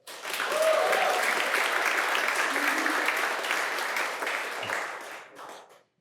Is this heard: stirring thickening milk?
no